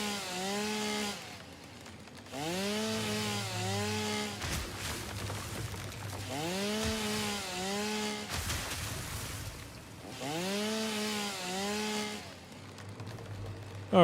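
Chainsaw felling trees in the video game Satisfactory, revving in repeated long whining bursts with rising and falling pitch, separated by brief crackling crashes, clear and close with no talking.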